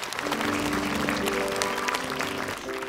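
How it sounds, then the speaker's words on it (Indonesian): A studio audience applauds on an Indonesian comedy talk show, a dense, even wash of many hands clapping at moderate level throughout, with faint musical tones running underneath. "Tepuk tangan dulu buat Komeng"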